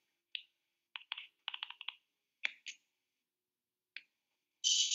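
Sparse, sharp keystrokes on an iPad keyboard while an email address is entered, a few isolated clicks and quick clusters of taps in near silence, ending in a brief brighter tone.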